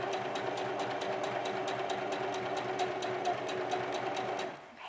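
A sewing machine stitches a ribbon skirt, a steady rapid mechanical whirr with an even ticking rhythm, close and continuous for several seconds before it slows and stops at the end.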